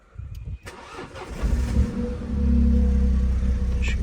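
A 2015 Mini Cooper F56 with a 1.5 turbo petrol engine starts with a short cranking whir, then catches and settles into a loud, steady idle, recorded close with no talking.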